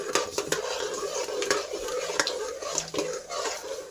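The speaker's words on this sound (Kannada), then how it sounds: "ಒಂದು 10 ಎಸಳು ಬೆಳ್ಳುಳ್ಳಿನ ನೀಟಾಗಿ ಜಜ್ಜಿಬಿಟ್ಟು ಇದಕ್ಕೆ ಹಾಕಿ ನೀಟಾಗಿ ಫ್ರೈ ಮಾಡ್ಕೋಬೇಕು." Crushed garlic cloves stir-fried in a pan, heard as a close, steady scraping and clattering of a spatula against metal over a soft sizzle, with no voices.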